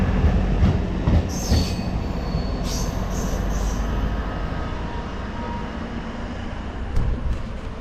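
A Kacheguda–Medak passenger train of Indian Railways pulling away, its wheels squealing high and metallic over a steady low rumble of rolling cars, loud and close throughout, with brief brighter screeches early on.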